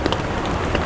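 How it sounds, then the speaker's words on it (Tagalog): Rain patters steadily on surfaces at a riverside campsite in Infanta, Quezon, a dense close wash of drops with a few brighter taps. "Baka lumakas pa lalo yung ulan eh."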